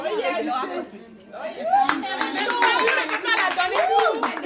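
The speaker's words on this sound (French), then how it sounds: "Applaudissez encore" Hands clap at a certificate award ceremony for graduates of a general cosmetics training course, with scattered claps rising to fuller applause. Voices chatter and call out over the clapping throughout.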